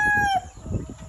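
A gamecock rooster crows loudly up close, the call breaking off abruptly, followed by softer low clucking and shuffling sounds from nearby fowl.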